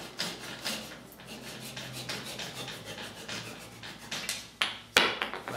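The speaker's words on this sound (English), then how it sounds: "use a saw and take that off" Hand saw cutting through the wooden handle of a turned kuksa cup, rough rasping strokes in an uneven rhythm close by, ending with a couple of sharper knocks.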